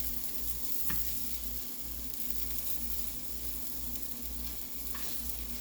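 Breakfast wrap filling frying in a pan, a quiet steady sizzle close by with a couple of faint light clicks, no voices.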